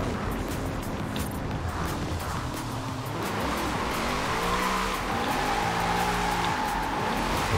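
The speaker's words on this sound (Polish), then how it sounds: "Ale ten samochód zajebiście łatwo driftuje." Tires squealing as a car drifts in Forza Horizon 4, a loud sustained screech over a roaring engine that rises and falls in pitch, close and continuous.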